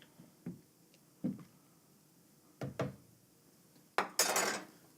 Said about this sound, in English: I'll just give it a little stir to move that hot spot around.